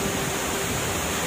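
Badyang Waterfalls in Northern Samar rushes with a loud, steady broadband roar of falling water, filling the whole moment without a break and without voices.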